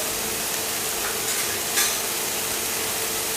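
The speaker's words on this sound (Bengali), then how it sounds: "5-6 মিনিট পর্যন্ত আমি এই সবজিগুলোকে শুধু নেড়ে চেড়ে দিচ্ছি।" Broccoli, potato and carrot fry in a pan while being stirred, giving a steady close sizzle with a brief scrape of the spoon partway through and no voices.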